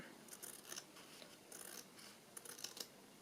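Scissors snip through paper while making ephemera, giving several short, crisp cuts in irregular bursts, close and fairly quiet, with no talking.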